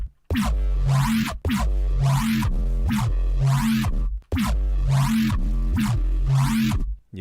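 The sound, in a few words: Laser Womp synth preset in Phase Plant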